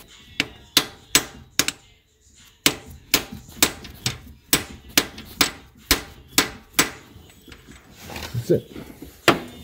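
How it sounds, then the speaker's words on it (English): A hammer strikes a metal driver in a steady series of sharp, loud taps while repairing a thread, with a brief pause early on; a voice speaks briefly near the end. "give it some good taps with the hammer"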